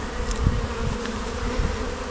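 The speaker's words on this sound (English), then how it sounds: "Not actually that many bees in here." Honey bees inside a poly nuc hive give a steady, close, dense buzzing hum that holds evenly throughout, with no voices.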